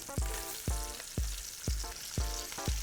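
Sausage and vegetables, including Cubanelle peppers and garlic, fry and sizzle in a pan for a Portuguese fish stew, with five or six sharp clattering stirs or drops of ingredients landing over a steady close sizzle.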